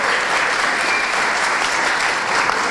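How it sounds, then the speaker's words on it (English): Loud, continuous applause from a conference audience, a thick and even wash of clapping filling the hall for the whole stretch. "A big applause."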